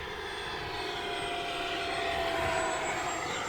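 An FMS Integral 80mm electric ducted fan RC jet flying at full throttle: a steady, high whining rush with a slowly shifting pitch, moderately distant and swelling slightly as it passes, heard alone without talk.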